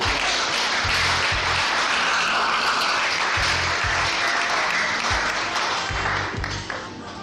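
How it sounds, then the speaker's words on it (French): A church congregation breaks into sustained applause and acclaim during a French-language sermon on eschatology, a dense wash of clapping that fills the whole stretch with rhythmic low thumps throughout, tapering slightly at the end. "Acclamons encore notre Dieu."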